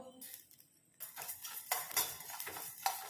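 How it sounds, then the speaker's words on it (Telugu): Coriander, cumin and fennel seeds dry-roast over low heat after chillies in a pan, a spoon scraping and clinking against the metal in uneven strokes that grow busier after a quiet start, with a faint dry rustle of seeds. "ఇవన్నీ కూడా దగ్గర ఉండి ఇట్లా ఇలా ఇలా కలుపుకుంటూ వేయించుకోవాలి మాడకుండా సిమ్ మీద పెట్టి వేయించుకోవాలి"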